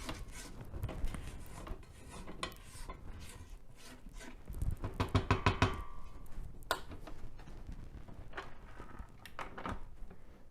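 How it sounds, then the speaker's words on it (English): A spatula scraping and pushing cornmeal batter down the sides of a bowl and mixing it, soft irregular scrapes and knocks with a denser rapid stirring burst midway. "this is the point where you're going to need a spatula just to push down, you know, the cornmeal that is stuck to the side"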